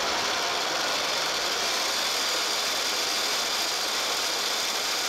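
3D-printed shredder gearbox running under motor power, mounted on a wood plate: a steady, loud, even mechanical whir and hiss with a constant drone throughout and no pauses or talk.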